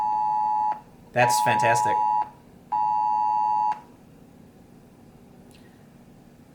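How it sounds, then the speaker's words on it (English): A presidential emergency alert tone sounds on a phone in loud, harsh repeating bursts with a gap between them, a person briefly speaking amid them before the tone cuts off to quiet room noise. "I just got a presidential alert."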